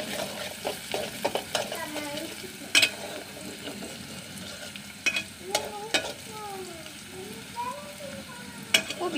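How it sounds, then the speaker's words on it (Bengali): Onions and chillies fry in a pan for a gourd and shrimp curry, a steady sizzle broken by scraping stirs and a few sharp clinks of the spatula against the pan. "এখন ভালো করে পেঁয়াজ মরিচ থেকে ভেজে নেব।"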